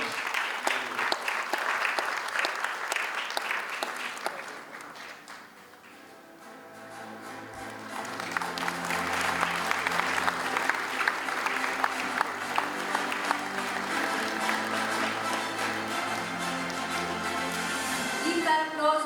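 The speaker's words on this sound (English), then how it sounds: "Keep that applause going, ladies and gentlemen." Audience applause at a health awards ceremony, steady clapping from a large crowd that dips briefly midway, then swells again with music playing underneath.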